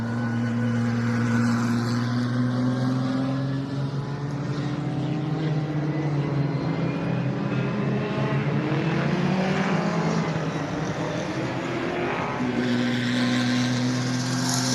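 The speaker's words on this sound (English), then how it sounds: "let's listen into a Dodge Intrepid engine in race trim" A Dodge Intrepid V6 in race trim, fitted to a spec racer at a speed festival circuit, drones loudly and steadily throughout, its pitch holding fairly even and then dipping and rising again as the car passes.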